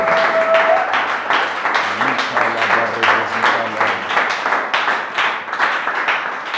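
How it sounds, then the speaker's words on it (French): A church congregation claps in steady rhythm for the Lord, loud and close, with singing voices running underneath the beat throughout. "Acclame pour le Seigneur, acclame pour le Seigneur"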